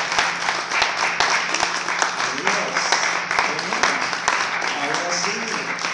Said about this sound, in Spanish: Den un fuerte aplauso, amén.